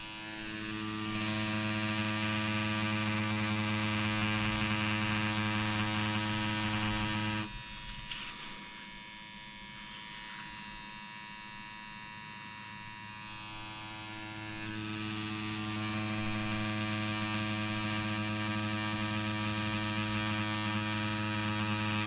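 A Dragonhawk Mast Fold tattoo machine runs at a 4.2 mm stroke with a nine-needle mag or round liner, a close, steady electric buzz that drops off briefly midway and then returns to its even hum.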